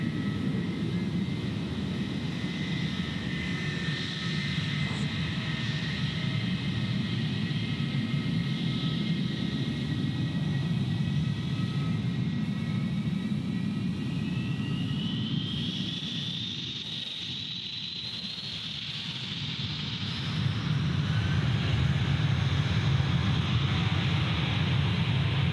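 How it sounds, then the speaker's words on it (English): Jetstar airliner taking off at Gold Coast Airport in heavy rain, a loud sustained engine roar with a rising whine, steady throughout with a brief dip before swelling again. "Jetstar 405, clear for takeoff"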